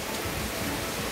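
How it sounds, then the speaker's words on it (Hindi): Heavy monsoon rain pours down in a dense, even hiss, close and constant for a brief moment with no talking. "भयंकर ही तेज़ बारिश हो रही है"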